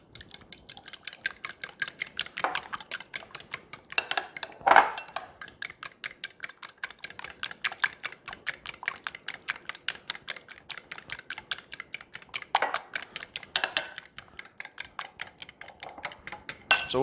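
Keto coconut flour cookie dough made with heavy whipping cream and butter is mixed in a bowl, giving a steady, fast rhythmic ticking and scraping of the utensil against the bowl, close and continuous throughout.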